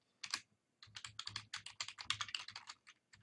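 Rapid keystrokes on a computer keyboard, entering a load-balancer application name into NetScaler VPX configuration software: a short pause after the first few keys, then a steady run of close, crisp clicks with no talking.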